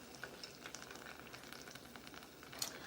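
Oil sizzles and crackles steadily with small pops as tempura-battered Nam Wah bananas deep fry, quiet and close, with no voices.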